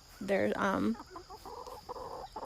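Hens clucking and murmuring nearby, a loud burst of calls at first, then softer intermittent clucks over a steady background hum.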